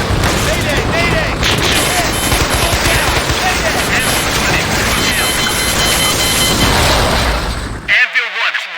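Sustained automatic gunfire and bursts in the war game Men of Valor, loud and relentless for several seconds, then cutting off abruptly near the end with brief scattered sounds.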